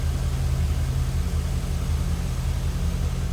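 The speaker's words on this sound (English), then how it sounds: "There's the AC compressor kicking on and off," A 2004 Chevrolet SSR's engine idles steadily up close with a low, even rumble, and the air-conditioning compressor cycles on and off underneath it.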